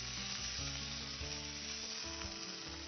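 Beef sizzling as it is briefly fried in a pan for a Vietnamese bò thưng dish, a soft, steady crackling hiss throughout with faint stirring, no talking.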